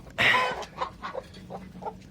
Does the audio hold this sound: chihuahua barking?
no